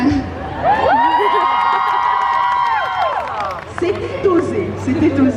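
A convention stage audience at Made in Asia 2019 cheers, whoops and applauds loudly and continuously, with a sustained shout rising above the crowd noise and a host's voice heard near the end.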